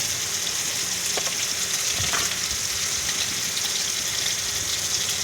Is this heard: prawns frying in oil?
yes